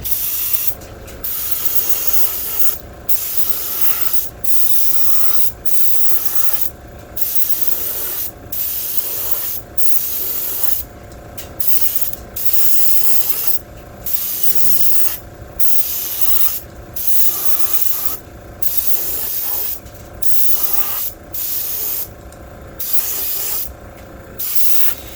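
An airbrush sprays yellow paint onto a fishing lure in steady bursts, each a loud, close hiss lasting a second or two and separated by brief pauses, repeating throughout with no talk.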